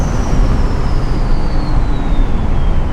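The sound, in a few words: turbocharged 6.0 Powerstroke diesel truck engine under throttle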